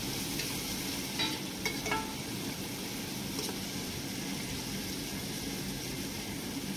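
Tomatoes being stirred in a hot pan while cooking dal khichdi, a steady close sizzle and fry throughout with a few faint scrapes of the spoon.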